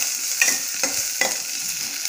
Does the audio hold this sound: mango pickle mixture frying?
yes